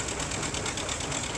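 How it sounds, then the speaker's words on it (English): A restored 1960 John Deere 730 diesel tractor engine running close by, a steady rapid rhythmic knocking chug with a dense, even pulse and no talking. "730 John Deere diesel"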